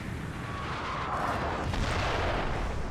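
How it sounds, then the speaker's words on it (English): Cannons fire during a battle in the video game Total War: Napoleon, making a loud, continuous rumbling roar of overlapping volleys with no distinct single blasts and no talk. "all of our cannons fire at theirs"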